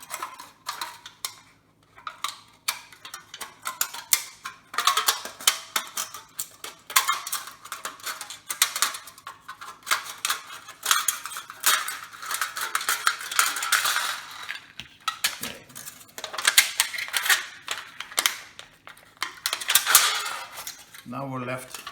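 Scissors cut the top out of an aluminum can, giving a close series of crinkly metallic snips and clicks with uneven rhythm and some handling noise.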